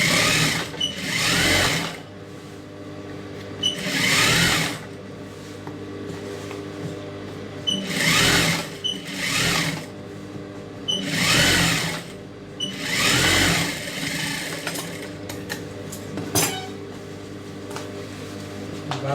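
A sewing machine stitches a silk skirt in steady bursts, each run of fast, even mechanical whirring lasting a second or two and separated by short quieter pauses, close and loud with no talk.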